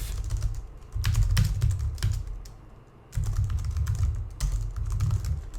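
Keystrokes on a computer keyboard while Python GTK+ 3 GUI code is typed, arriving in close, busy bursts of rapid clicks with a short lull near the middle and no voices.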